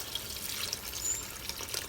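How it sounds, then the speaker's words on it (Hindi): Water pours steadily into a pan of kofta gravy, a continuous soft splashing and trickling rush that stays moderately quiet and even throughout, with no voices. "तो अब मैं इसके अंदर पानी डालूँगी जितनी ग्रेवी हमने रखनी है।"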